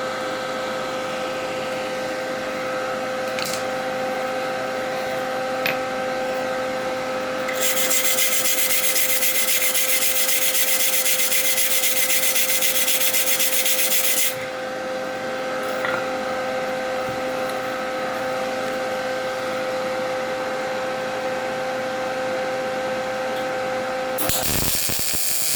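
A gas-shielded MIG welder lays a bead with the voltage set to B, a loud, harsh crackling buzz lasting several seconds over a steady electrical hum, then a second short burst at the end.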